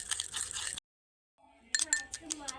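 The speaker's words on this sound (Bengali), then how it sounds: "3টি উপকরণ খুব ভালোভাবে আমি এখানে মিশিয়ে নিচ্ছি" Alum, honey and gel are mixed in a bowl, making light clinking and tapping sounds. There is a short clink-filled stretch, a moment of silence, then a quicker run of clinks.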